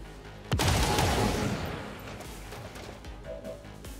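Bluescreen-round gunfire in XCOM 2, a single sharp loud shot followed by a rumbling, decaying crash and debris tail fading over several seconds.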